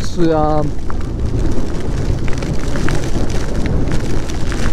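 Steady rain pattering down around a motorcycle ride in heavy weather, a dense continuous wash of drops filling the scene at close range, with brief tonal beeps near the start.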